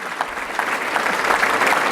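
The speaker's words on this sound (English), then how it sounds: "you should clap" An audience claps in a full, continuous burst at a speech event, loud and close, with no voice over it.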